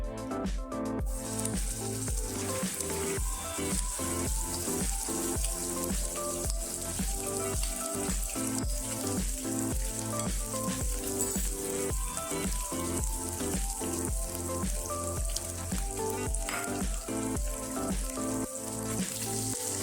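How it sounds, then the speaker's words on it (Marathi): Ground masala paste frying in hot oil, a dense, continuous crackle that stays loud and even from start to finish. "तेल गरम झालं की आपल्याला वाटून घेतलेला वाटण मस्त असं परतून घ्यायचं आहे"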